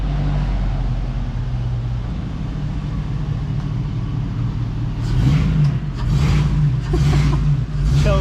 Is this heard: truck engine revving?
yes